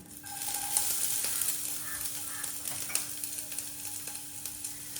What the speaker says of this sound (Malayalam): പതുക്കെ ഉള്ളി മാത്രം ആദ്യം ഇടും